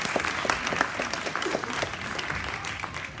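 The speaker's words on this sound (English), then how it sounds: "Clap your hands for Emily Anna." Classroom applause as students clap their hands together for a classmate, a dense, steady patter of many hands at moderate loudness lasting throughout.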